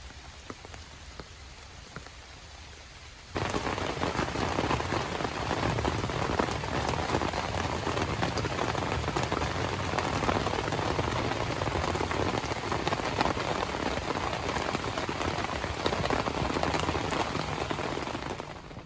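Rain drums on a tarp at a campsite, a steady dense patter that starts abruptly after a few quiet seconds and then continues without a break, with no voices.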